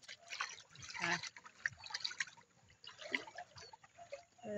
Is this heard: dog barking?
no